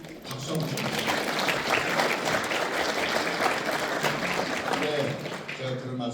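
An audience at a writing lecture breaks into sustained applause, a dense, steady clatter of many hands that fades toward the end as a voice speaks over it.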